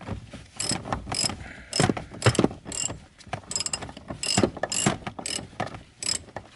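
A ratchet with a deep socket and wobble extension clicks rapidly in repeated close bursts while loosening a bolt during a Nissan 350Z clutch cylinder install.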